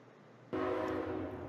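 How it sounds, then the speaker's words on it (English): Amtrak train passing: a sudden onset of loud, steady rail noise with a tonal horn-like hum cutting in abruptly and holding for the rest of the moment. "There goes an Amtrak."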